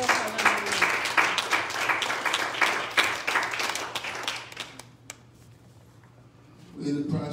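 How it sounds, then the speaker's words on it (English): Church congregation clapping hands during a sermon, a dense run of sharp claps for about five seconds that thins out and fades, followed by a brief swell of voices at the end. "Will you clap your hands unto the Lord?"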